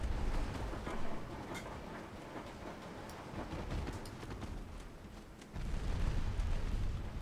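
Five-inch naval guns on a ship in a video game firing a salvo at transports, heavy booming blasts and rumbling impacts layered dense and loud over several seconds, with a stronger surge near the end.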